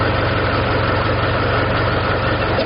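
A tractor engine idling at steady speed, close and loud, with a continuous even low throbbing drone and no variation or voices. The tractor may be a Kubota MU 4501, a John Deere 5045D or a Mahindra.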